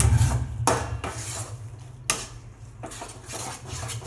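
Beetroot halva is scraped out of a pan into a greased plate with a metal spoon, giving a few sharp clinks and scrapes spaced across the clip over a low steady background hum.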